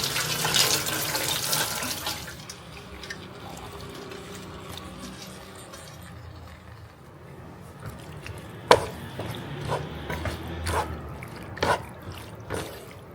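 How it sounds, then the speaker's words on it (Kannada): Cooked pasta rinsed under a cold kitchen tap, steady running water splashing into a sink with a few sharp clatters and clinks near the end, close and fairly quiet throughout. "ಇವಾಗ ಇದನ್ನು ಸ್ವಲ್ಪ ಕೋಲ್ಡ್ ವಾಟರಲ್ಲಿ ವಾಶ್ ಮಾಡ್ಕೊಳ್ಳೋಣ"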